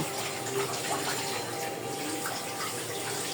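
Tap water runs continuously into a sink while soaked food is washed under it, a steady close splashing wash with light rustling, no talking.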